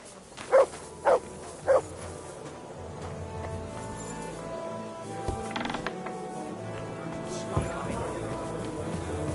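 Three short, loud dog barks in a quick run near the start inside Kingdom Come Deliverance 2, followed by mechanical creaks and a medieval game ambience.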